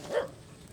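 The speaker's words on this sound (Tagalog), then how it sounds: "Ito yung aso ni lolo eh." Grandpa's dog gives a single short bark, moderately close, then quiet outdoor background follows.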